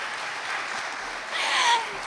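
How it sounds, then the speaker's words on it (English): Applause from an audience after a quiz show performance, a brief, moderately faint patter of clapping that swells slightly toward the end. "Give them another round of applause"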